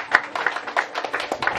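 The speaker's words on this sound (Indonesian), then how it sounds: "Kita tepuk tangan dulu untuk kita." A small group of students at a campus gathering claps in an irregular, moderately close patter of individual hand claps that lasts under two seconds.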